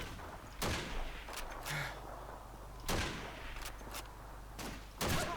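Gunshots in Call of Duty 2, the World War II shooter, ring out as a few separate sharp cracks spaced seconds apart, with fainter shots between, fairly quiet over a low battlefield hum.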